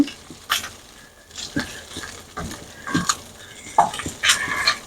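A batch of meat sears in hot oil in a pot for carne guisada, with a soft background sizzle broken by several spoon stirs and scraping clinks against the pot.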